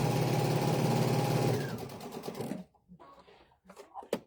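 A sewing machine stitches a seam on a small quilted ice cream pint cozy, running steadily and loudly for about a second and a half before slowing and stopping, followed by faint handling noises and soft talk.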